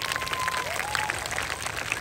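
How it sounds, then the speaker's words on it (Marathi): A crowd at a Navratri festival event claps together, steady broad applause filling the clip alongside a faint tonal musical line. "हात वरती करून टाळ्या वाजवा"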